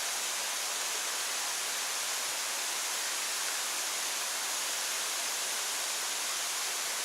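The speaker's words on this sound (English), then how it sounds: "Well, there's the falls." Tupapakurua Falls pours down near a forest track among huge boulders, throwing fine mist; its steady, dense roar of falling water fills the whole stretch without a break or any voices.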